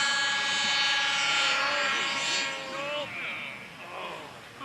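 A model aircraft engine buzzes during a flight round at the 2012 SAE Aero Design East competition, a droning whine that shifts pitch and fades as the plane moves away, with someone talking over it.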